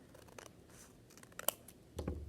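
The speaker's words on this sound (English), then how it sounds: "I'm gonna take that and I'm gonna cut right into the point" Scissors cutting into a folded paper mock-up of a mini house, a few faint snips and crisp blade clicks close by in a quiet room, ending with a soft rustle.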